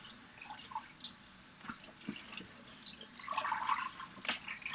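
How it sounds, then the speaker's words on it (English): Fresh strawberries being rinsed in a strainer under a running tap, giving a soft, steady trickle and patter of water with small splashes that swell louder toward the end. "So I'm going to do a quick pre-wash here."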